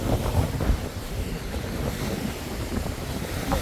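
Steady, loud sea breeze buffeting the microphone over ocean waves near a boat at a tourist spot, a continuous broadband roar with no talking.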